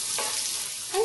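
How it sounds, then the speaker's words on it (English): Chopped onion hits hot oil in a wok for an Indian chicken curry, giving a steady, close hiss of frying with a brief stir near the end. "Once the oil is heated, add the chopped onion"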